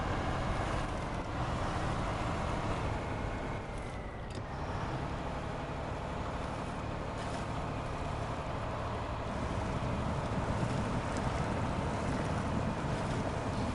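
The Yeetmobile mod truck in the SnowRunner video game runs with a steady, dense, aggressive engine drone that stays loud and continuous, with only slight shifts in load.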